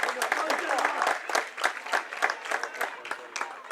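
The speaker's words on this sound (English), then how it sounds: "Clare crowd appreciative of that effort there by Jennifer Daly." A Clare crowd applauds a score by Jennifer Daly of Scariff in the Armagh versus Clare match: dense, steady clapping from a distant crowd that rises and dips throughout, with a commentator talking over it.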